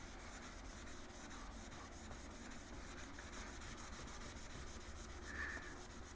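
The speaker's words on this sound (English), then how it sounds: "I think this magic eraser has a mild abrasion to it" A magic eraser scrubs the dull plastics of a 1996 Yamaha Wolverine ATV, giving a soft, continuous rhythmic rubbing close by.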